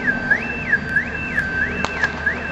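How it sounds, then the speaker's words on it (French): Alarms sounding around a company site during a chemical fire, a loud continuous rising-and-falling electronic siren close by, steady and unbroken, with no voices. "Il y a toutes les alarmes qui se sont mises en route. C'est ce qu'on entend actuellement."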